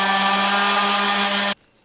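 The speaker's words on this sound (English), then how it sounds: "I did a quick sanding on the backs of the hanger images just to clean up the blowout from the scroll saw" Power sander smoothing the backs of scroll-sawn wooden hanger pieces, a steady loud motor whine with a humming buzz that cuts off abruptly, close up and without talk.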